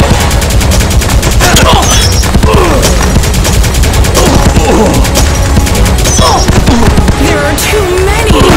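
Dense, loud automatic gunfire rattles almost nonstop in the Elevator Action Invasion arcade game, rapid bursts layered with impacts and crashes, while game voices shout faintly beneath.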